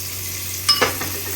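Ginger garlic paste stirred into softened shallots in a pan for a Chettinad-style chicken curry: a couple of quick spatula scrapes with a soft sizzle, close and brief, over a steady background hum.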